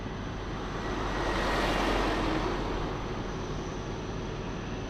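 An Airbus A330 airliner at Lisbon Airport, a steady broadband jet roar that swells slightly and holds, moderately distant, with no talk.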